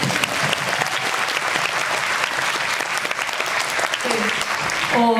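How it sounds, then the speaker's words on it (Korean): An audience applauding at a Busan International Film Festival guest visit screening, dense and continuous clapping from a full hall, with a voice coming in over it at the very end. "박수 한번 부탁드립니다"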